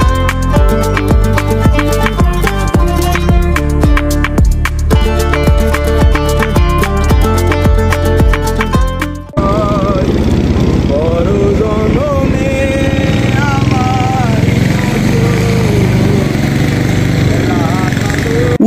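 A motor boat or trawler engine on the river near Remakri and Tindu drones steadily and close at hand with a rhythmic, throbbing pulse, and a voice talks over it during the later part.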